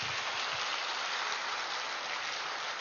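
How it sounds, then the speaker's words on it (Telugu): Steady, dense applause from a large audience at a spiritual meditation gathering in Tirupati, a continuous even roar of many hands clapping at once with no pauses or voices. "గట్టిగా చప్పట్లు కొడదాం"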